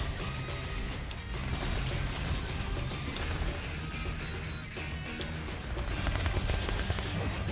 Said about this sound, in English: The shots travel very fast off of an impulse rifle